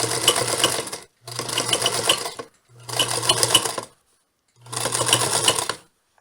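Sewing machine stitching a seam on a leather pocket, running in three to four steady bursts of a second or so each with short pauses between, the needle clatter close and clear with no talking.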